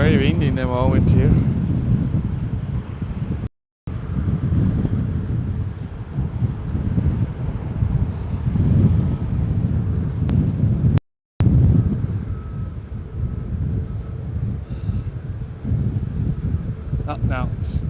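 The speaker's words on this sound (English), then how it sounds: "it's windy, very windy in the moment here." Strong, very windy gusts buffet the microphone at Ponta Delgada airport in the Azores, a continuous loud low roar with brief dropouts, while a person talks over it.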